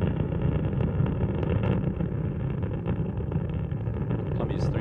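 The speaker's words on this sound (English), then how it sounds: "Columbia's three main engines have now throttled back to 2/3 throttle to prepare the spacecraft to pass through the area of maximum air pressure and go supersonic." The three main engines of Space Shuttle Columbia, throttled back during launch, give a continuous low, rumbling roar that stays even and muffled throughout.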